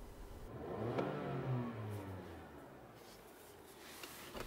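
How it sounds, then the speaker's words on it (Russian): A 2WD Toyota RAV4 with a CVT gearbox revved briefly: a faint engine note climbs to a peak about one second in, then settles back to a soft idle hum. "Немного погазуем."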